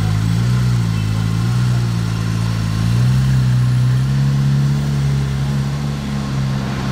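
A Porsche GT3 RS engine holds a steady, loud, low rumble at idle, with a slight rise in pitch partway through and no voices over it.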